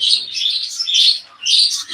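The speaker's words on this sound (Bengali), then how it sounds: "এই যে নিচে বসে আছে ও হচ্ছে আমার মিঠু মিঠু আমার টেম করা একটা পাখি" Mithu, a tame pet budgerigar-type bird, chirps in bright, rapid bursts, close and loud, with a short pause before a final flurry.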